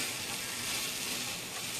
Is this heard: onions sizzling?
yes